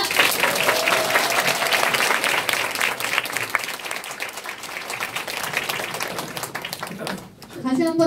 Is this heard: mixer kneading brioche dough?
no